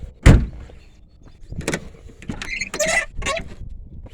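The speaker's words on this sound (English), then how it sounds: "Doors are a little squeaky." The door of a 1984 Audi 4000 quattro diesel squeaks as it swings, after a sharp thump near the start, with short creaking squeals and rubbing noises following close by.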